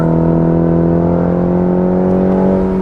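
A 2020 Cadillac at full throttle merging onto a highway, its engine a steady, loud growling drone with strong low harmonics that rise slowly in pitch over a few seconds of continuous acceleration, heard from inside the cabin.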